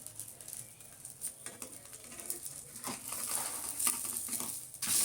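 Bread fries in a pan on a stove turned down low, a soft sizzle with light stirring and scraping that grows slightly louder toward the end, heard close up with no talking.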